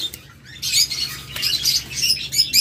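Pet red-eyed lovebirds or budgerigars chirping and squawking in quick, overlapping bursts at close range, with no voices.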